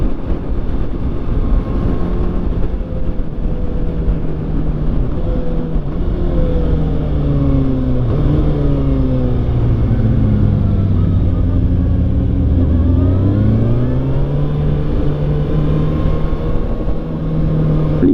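A Kawasaki ZX6R motorcycle engine drones loudly and continuously during a ride, its pitch sliding up and down as the revs change, heavy wind rumble underneath, no voices.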